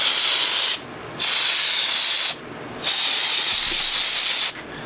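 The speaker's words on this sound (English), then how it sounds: "I'm going to spray some air on that cam" Compressed air sprays onto a compound bow's cam in three loud hissing bursts, each about a second or more, separated by brief pauses.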